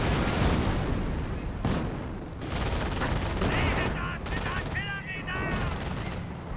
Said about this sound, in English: There's artillery on top of this bunker